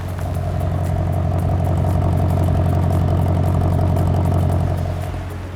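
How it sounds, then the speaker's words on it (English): Steady, loud V8 exhaust drone from a 2020 Mercedes-AMG S63 Coupé running in comfort mode with the exhaust flaps open, a continuous low rumble held at a constant level without distinct revs. "So right now it's in comfort mode with the open exhaust. Listen to the exhaust."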